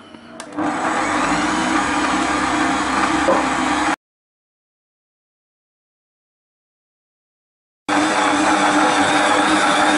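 A stand mixer turns slowly, kneading puff pastry dough in its bowl with a loud, steady motor whir. A long silent gap splits the sound before the whir resumes.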